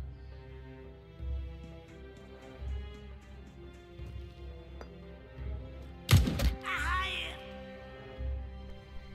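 A weapon is reloaded in the video game Pathway, heard as a brief cluster of sharp mechanical clacks and a thunk partway through, set over steady background game music.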